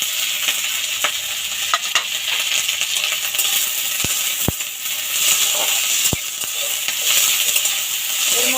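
Chopped potatoes frying with onions in a pan for a Bengali beto shak dish, a steady close sizzle with stirring scrapes and a few sharp metallic clinks of a utensil against the pan.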